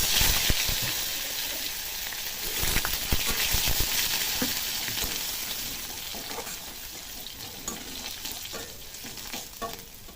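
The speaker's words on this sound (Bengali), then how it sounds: "রসুন ভাজাটা থেকে সুন্দর একটা গন্ধ ছাড়লে" Black cumin seeds and garlic paste frying in hot oil, a loud continuous sizzle and crackle up close, with occasional stirring scrapes and light spoon knocks.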